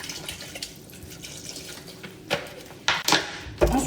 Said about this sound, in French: Ensuite, vous mettez un fond d'eau.